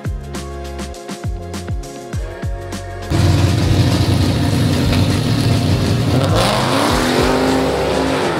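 A Corvette C8 E-Ray at a dig race idles with a few short rev blips, then launches hard into a loud, sustained full-throttle pull with rising engine pitch, close and dominant throughout.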